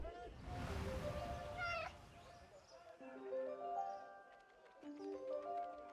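A cat meows a few times in the 11-11 Memories Retold video game, tonal cries rising and falling over a murky game background, moderately loud with no talk.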